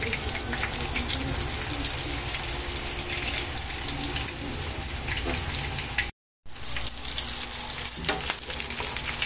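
Chili peppers fry in a hot pan for a dynamite dish, a dense continuous sizzle with crackling bursts that cuts out briefly near the end before resuming.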